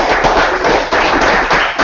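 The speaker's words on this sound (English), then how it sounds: "So big round of applause to AddThis." An audience at a DevOps meetup breaks into steady, dense applause, many hands clapping close together at full volume for about two seconds, with no voices over it.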